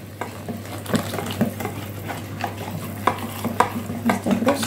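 Batter for rose-shaped bread rolls is whisked briskly in a bowl, close by, with steady scraping and clinking strokes and no talking.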